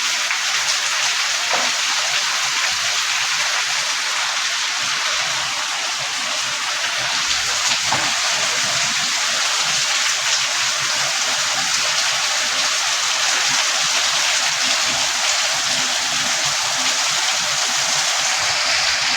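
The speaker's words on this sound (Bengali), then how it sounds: "প্রচুর বৃষ্টি হচ্ছে।" Heavy rain pours down in a dense, unbroken roar, loud and close, steady for the whole stretch with no voices.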